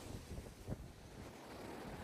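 Fairly strong sea waves break along a coastal road by the Baekseom observatory in Goseong, heard as a steady, windy wash of surf with microphone wind buffeting and one brief swell surge.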